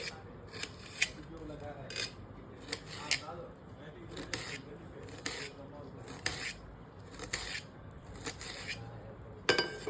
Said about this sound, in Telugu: టొమాటోస్ కూడా అంతే లైక్ చాలా సన్నగా చాప్ చేసుకుంటే మనకి గ్రేవీకి బాగా వస్తుంది